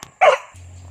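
A white female hunting dog gives one short, sharp bark up close, followed by a faint low hum.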